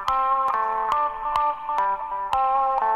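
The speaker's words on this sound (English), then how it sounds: "you can hear that, just that wah pedal" Wah-wah guitar effect in a classic dance track, a sustained sweeping filtered tone over a steady beat with sharp regular percussive hits, loud and continuous with no voices.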